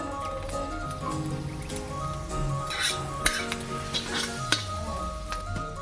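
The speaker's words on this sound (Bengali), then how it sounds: "দেখো ডিমটা আমি কড়াইতে দিয়ে দিয়েছি ভাজার জন্য।" Eggs frying in a wok with steady sizzling and stirring, plus several sharp clinks of a utensil against the pan. The sounds are close and continuous, with no talking.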